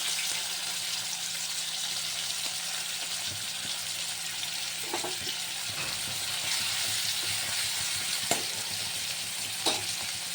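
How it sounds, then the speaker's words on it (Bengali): Chopped onion frying in hot oil in a pan, a steady close-up sizzle that holds for several seconds, with a few soft clinks of stirring, for a fish curry. "ওই তেলের মধ্যে এবার আমি পেঁয়াজ কুচি দিয়ে দেব।"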